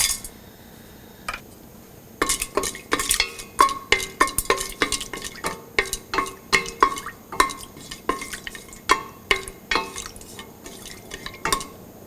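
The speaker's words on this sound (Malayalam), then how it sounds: "വെളിച്ചെണ്ണ ചൂടായി കഴിയുമ്പോൾ നമ്മൾ എടുത്തു വച്ചിരിക്കുന്ന ഹോൾ സ്പൈസസ് ഇട്ട് വഴറ്റുക" Whole spices sauté in hot coconut oil for a Kerala mutton stew, heard as a quiet low sizzle broken by repeated sharp metallic clinks and scrapes of a spoon against the pan, close and with no talking.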